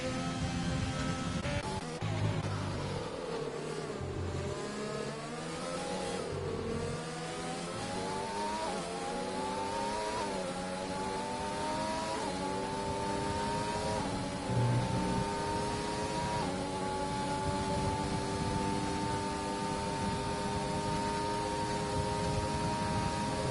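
A race car engine revving steadily in a sim racing game, a loud continuous high-pitched whine that climbs and dips through the rev range and gear changes, up close and alone for over twenty seconds.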